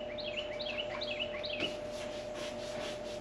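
Birds singing outdoors come in through an open back door to an indoor room: a run of quick, high, falling chirps through the first half, fairly faint and distant over a steady low household hum.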